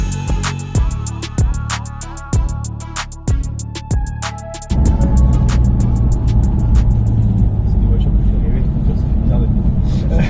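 Porsche GT3 RS accelerating on a track, heard as a steady loud engine roar from mid-clip onward, preceded by a run of sharp rhythmic clicks and thumps.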